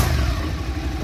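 A 2012 Suzuki SV650 motorcycle runs through its stock exhaust, a close, steady low engine rumble with a slightly uneven, throbbing texture across the whole moment.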